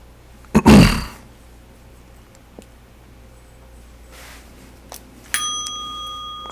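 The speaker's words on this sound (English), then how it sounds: "That was something hitting the bell." Something accidentally strikes a meditation bell, leaving a clear ringing tone that sustains and fades near the end, after a loud brief rustle and scattered small knocks in a quiet room.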